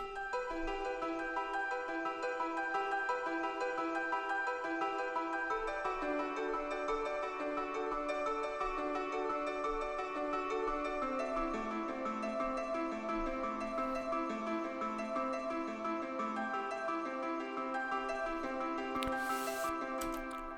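A melodic drum and bass piano plays a flowing melody over sustained chords, joined by a second melodic instrument, steady and moderately loud throughout with no talking.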